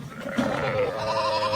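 Sheep from a flock of tall, long-legged animals bleat in a drawn-out, wavering call close by, over a steady background murmur of the herd.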